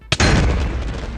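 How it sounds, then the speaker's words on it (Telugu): A single deep explosion booms in Minecraft right after a totem is used, a sudden loud blast with a rumbling tail that fades slowly over about a second, no talk. "టోటం తర్వాత బ్లాస్ట్ అయింది."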